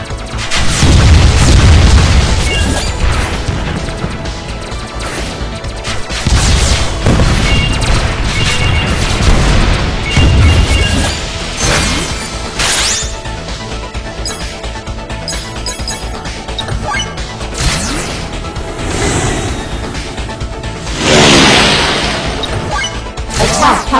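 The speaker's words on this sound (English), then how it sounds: "Electric shock laser. Burning rocket." Burning rockets and electric shock lasers fire in the WinWing mobile shooter game, a dense barrage of loud booming explosions and crashing impacts in rapid succession, with no voices.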